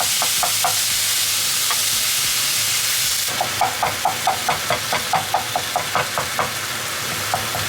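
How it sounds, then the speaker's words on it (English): Steady sizzling hiss from onions browning in a frying pan, with a series of light rhythmic clicks and taps from stirring partway through. "And we're gonna brown the onions."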